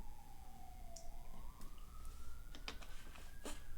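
A distant emergency vehicle siren glides down then slowly up in pitch, faint under background noise and scattered clicks.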